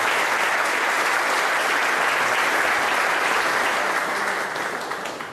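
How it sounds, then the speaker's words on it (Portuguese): A church congregation applauds steadily for Pastor Josimar Oliveira, dense, even clapping from many hands filling the room, fading slightly at the very end. "vocês aplaudam ao Senhor pela vida dele"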